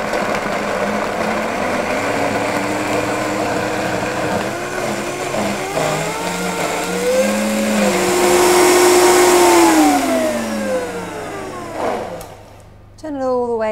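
A blender whirs through raw nut cheese at medium speed, a loud continuous motor drone that climbs in pitch as the mixture smooths out, then winds down and stops near the end.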